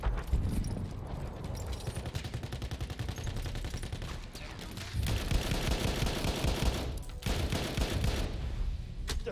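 A Lewis machine gun fires in the Battlefield 1 video game, long rapid automatic bursts with dense, rattling shots and only brief pauses between strings of fire.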